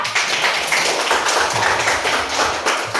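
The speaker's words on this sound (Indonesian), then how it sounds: "tepuk tangan untuk Divo." Children clap for a classmate during a school counseling group activity, a busy, continuous patter of small hands, moderately loud and close, with no talking over it.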